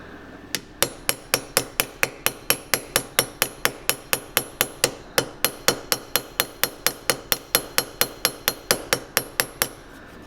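Steady hammer blows peening tenons on a peening block, about thirty sharp metallic strikes in an even, regular rhythm, close and loud with no talking.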